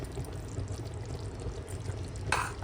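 Two spoons of ghee are poured into mutton kurma in a home kitchen, a soft, faint pouring trickle with a brief brighter splash near the end, alone without talk.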